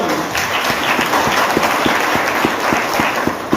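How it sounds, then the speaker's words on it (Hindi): An audience claps loudly for a company founder at a business motivational event, a close, continuous burst of hand claps with a few sharper individual claps standing out throughout. "हमारे फाउंडर के लिए प्लीज जोरदार तालियां"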